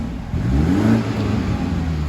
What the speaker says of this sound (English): it sounds really well for a 2-litre petrol turbocharged engine